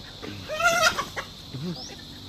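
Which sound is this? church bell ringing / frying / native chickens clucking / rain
native chickens clucking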